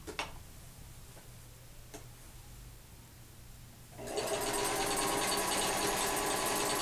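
A sewing machine stitches the heel seam of a handmade boot, starting up after a few seconds of quiet room tone with faint ticks, then running as a steady, rapid mechanical whir until the end.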